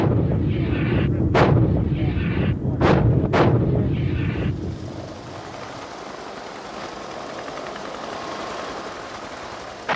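Heavy artillery fire in a desert town battle during the Gulf War, with Saudi and Qatari forces backed by American guns: several loud booming blasts in the first half, then a sustained rumbling roar of distant gunfire.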